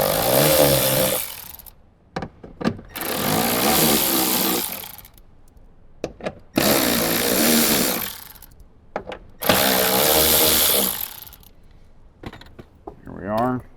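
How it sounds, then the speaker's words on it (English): Power driver spinning out the four bolts that hold a factory 6x9 speaker in a 2024+ Toyota Land Cruiser, heard as four loud, sustained whirring bursts separated by short pauses and small clicks. "grab either a Phillips head screwdriver or 10mm socket, take out the 4 bolts"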